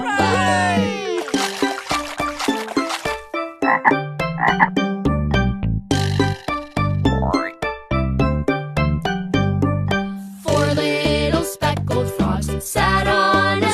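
Frogs croaking in a dense, rhythmic chorus of loud, close, repeated pulsed calls with occasional splashy water sounds, continuing throughout with no pauses.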